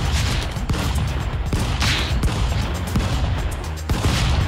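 Cartoonish gunshots from Stick Fight: The Game crack in rapid, irregular bursts, loud and close, mixed with game effects and nearly continuous without pauses.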